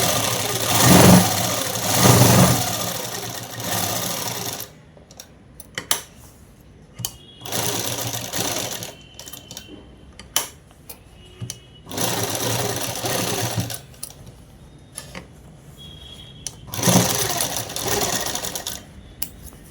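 A domestic sewing machine double-stitches the seam of a man's shirt, running in several loud bursts of rapid mechanical whirring separated by brief pauses, close up and without talk.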